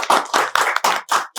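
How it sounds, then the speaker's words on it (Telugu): Several bursts of close hand clapping in quick succession, loud and slightly uneven, given for a young boy with brief gaps between the claps. "Give him a big applause."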